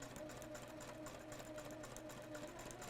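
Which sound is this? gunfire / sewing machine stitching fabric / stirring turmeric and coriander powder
sewing machine stitching fabric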